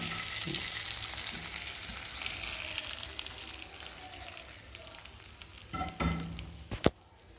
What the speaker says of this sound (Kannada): ಈಗ ಇದಕ್ಕೆ ನಾವು ಏನು ಒಗ್ಗರಣೆ ಮಾಡಿಟ್ಕೊಂಡಿದ್ವೋ ಅದನ್ನು ಮಿಕ್ಸ್ ಮಾಡಿಕೊಡೋಣ